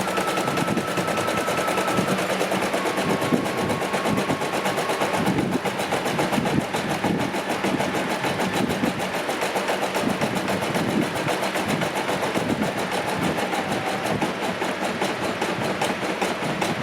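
A Brother PE800 embroidery machine stitches at a rapid, even, machine-gun-like rate, a close, steady mechanical chatter with a low hum that keeps going without pause and with no talking.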